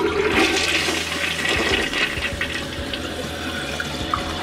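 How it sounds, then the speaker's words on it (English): A household toilet, which had been failing to flush properly, flushes loudly and close by. The rushing water swirls and drains steadily for several seconds with no voices. "let's flush."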